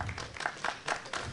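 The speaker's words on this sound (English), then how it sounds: "And go ahead and clap." Audience applause at a committee meeting: a short burst of scattered clapping with several distinct loud claps across a little over a second.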